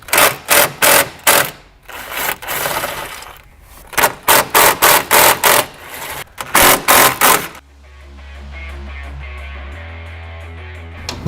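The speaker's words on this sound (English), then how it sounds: "we're going to undo these 3 10mm bolts and this 1 10mm bolt on the top side" Ratchet undoing 10mm bolts on the headlight bracket of a Chevrolet Corvette C8 Stingray, with loud, close runs of rhythmic clicking broken by brief pauses. A steady low hum takes over near the end. No one talks.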